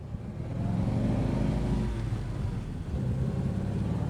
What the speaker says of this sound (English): This time I'm going to get on it so you can see all that torque this little flathead's got.